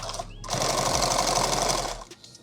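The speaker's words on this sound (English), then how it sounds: "I am going to go ahead and continue this stitch here" A sewing machine stitches a short burst of seam on an eight-magazine war bag, a loud, rapid, even mechanical buzz lasting about a second and a half, starting and stopping abruptly.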